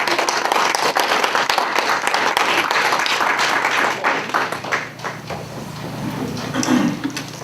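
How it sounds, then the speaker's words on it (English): An audience at a community poetry open mic applauds as a poet comes up, a full burst of crisp clapping that thins and dips midway, then swells briefly before fading, with a few knocks and shuffles. "please applaud each poet as they come up"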